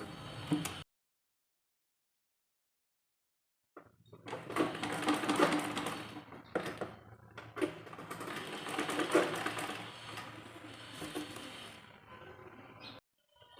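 A sewing machine stitches a kurti in close, rattling bursts of fast needle clatter, pausing and restarting after a silent gap near the beginning.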